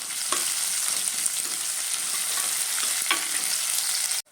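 Two onions sliced lengthwise sizzle loudly in hot oil in a pan, with a steady bright frying hiss and a few stirring knocks, close up and uninterrupted until an abrupt stop.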